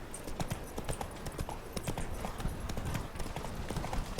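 Hooves of a horse galloping in The Witcher 3 beat in a steady, fast clip-clop rhythm, loud and close, over faint game ambience.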